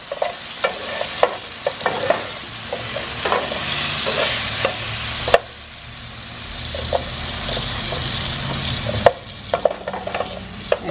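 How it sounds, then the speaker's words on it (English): Onion frying in a pan while making mole, a steady sizzle broken by repeated scraping stirs and sharp utensil clicks close up. "just fry these up and then also gonna add in the onion"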